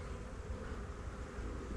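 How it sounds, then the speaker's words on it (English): Nurse bees crowd over a frame of brood in an open hive, giving off a steady, dense, low buzzing hum that stays even throughout with no voices. "Just a bunch of nurse bees and a frame of brood."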